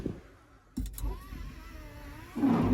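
Ventilation fan starting up in the cab of a John Deere 975 combine harvester, a steady close whir that comes on partway through and rises to a louder, fuller blow at the end.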